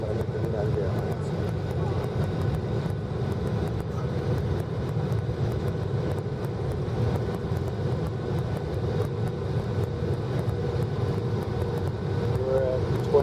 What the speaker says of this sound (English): This is a 737-800 operated by US Continental, landing in United Airlines.